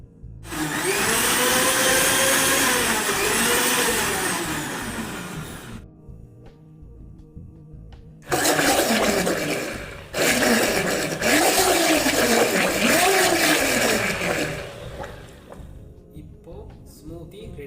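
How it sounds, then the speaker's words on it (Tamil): A mixer grinder blends pineapple, banana and ice into a smoothie with a loud, close whirring. It runs in three bursts, the longest first, separated by short pauses. "இப்போ நம்ம மிக்சியில் ஓட விடணும்"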